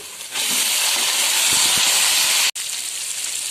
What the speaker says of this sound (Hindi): साथ ही मैं इसमें ये चिकन डाल के फ्राई करूंगी।